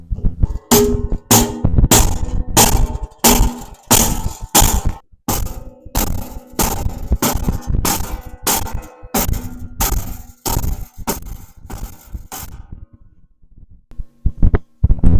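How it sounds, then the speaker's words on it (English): A dead blow mallet hammers sheet metal on a bench edge in fast, steady, thudding strikes that fall close and loud, easing off near the end with a few scattered final blows. "I'm using a dead blow, so I'm not denting the crap out of this material"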